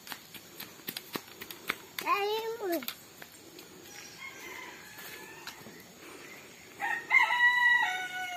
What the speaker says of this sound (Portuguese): o cantar do galo